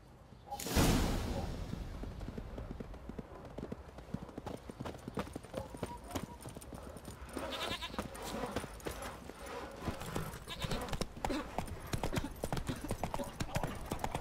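Horse hooves clip-clopping at a steady trotting rhythm while riding in the video game The Witcher 3, close and continuous, with a loud whoosh near the start and a voice speaking briefly over the hoofbeats.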